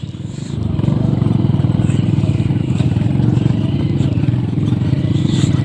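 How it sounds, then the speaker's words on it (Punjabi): Motorcycle riding a rough dirt track through a jungle near the Sindh River, a close, continuous engine drone with clattering from the bumpy ground and faint wind, no clear talk. "ਮੋਟਰਸਾਈਕਲ ਦਾ ਸਫ਼ਰ ਵੀ ਕਾਫੀ ਮੁਸ਼ਕਲ ਹੀ ਆ।"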